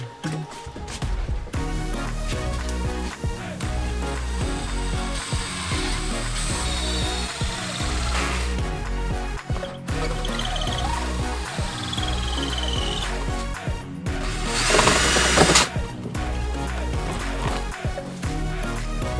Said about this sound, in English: so we are ready to drill the hole.